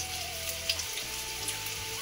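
Food frying in a pan gives off a faint, steady sizzle with light crackles at home, with a quiet hum running underneath. No one speaks.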